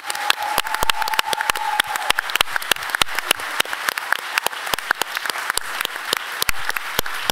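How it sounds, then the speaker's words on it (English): A seated audience claps for panelists at the close of a Radcliffe Institute panel session, giving dense, crisp, steady applause nearby throughout. "please give everybody a round of applause"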